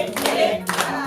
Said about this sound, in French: Ovation, ovation.